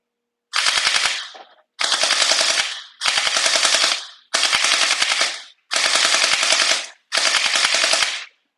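An SLZQ Mini MP5 gel ball blaster fires six full-auto bursts of about a second each, a loud close-up buzzing rattle with short pauses between bursts.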